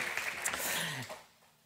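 Church congregation applauding the welcome and security staff, a short burst of crowd clapping that fades away after about a second, with faint voices mixed in.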